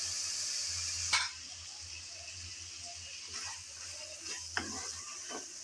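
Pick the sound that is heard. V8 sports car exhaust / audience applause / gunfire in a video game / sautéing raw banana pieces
sautéing raw banana pieces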